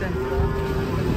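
A cow or bull bellows in a brief, steady low moo while cattle are unloaded from a truck, close and loud over a rough background.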